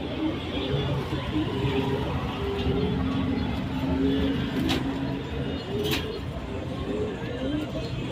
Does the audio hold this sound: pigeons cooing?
yes